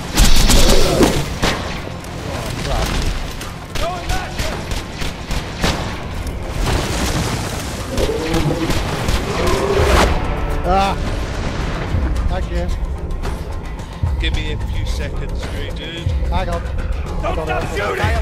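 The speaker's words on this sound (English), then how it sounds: "stop shooting!" Dense gunfire and booming blasts from a Borderlands 2 co-op fight against the boss Terramorphous, loud and continuous throughout, with voices talking over the shooting.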